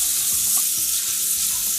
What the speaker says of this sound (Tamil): வெங்காயம் இன்னும் நல்லா வதங்கணும்.